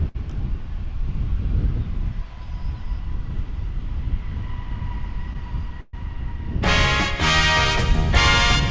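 Wind gusting across the microphone at DFW International Airport, a continuous low rumbling buffet, with a louder, brighter burst of noise near the end.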